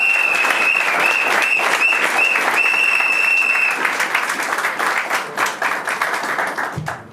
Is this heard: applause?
yes